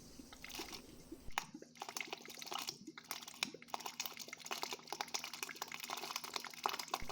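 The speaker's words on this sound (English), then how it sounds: "After that, it's going to be the water coming out of the new filter." Water running from a refrigerator dispenser into a container right after a new filter is installed, with a steady broadband rush interrupted by sputtering and crackling bursts. It stays fairly faint and close throughout.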